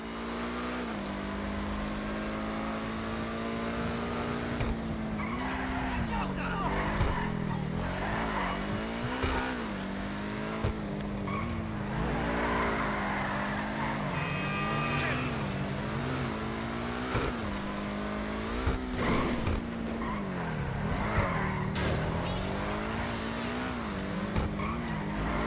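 A Benefactor SM722 sports car engine, modeled on the Mercedes-Benz SLR Stirling Moss, revs and shifts through gears continuously in Grand Theft Auto, with tires squealing at intervals, a steady loud racing sound with no talk.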